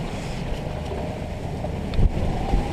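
Strong wind buffets a sailboat under reduced sail off Aitutaki in the Cook Islands, a steady broadband roar of gusts and water rushing past the hull, with a louder gust swelling near the end.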